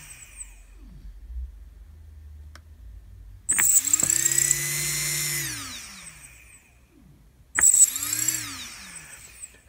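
Faulty electric motors on a bench, several twitching with short buzzy bursts while one spins up with a rising then falling whine; two loud whirring episodes stand out over a quiet electrical hum.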